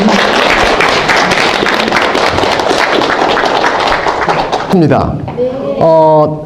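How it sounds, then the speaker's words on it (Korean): An audience claps loudly to welcome a lecturer at a local culture and folklore talk, sustained dense applause filling the room before tapering into a voice speaking at the end. "김종국 교수님을 큰 박수로 환영해 주시기 바랍니다"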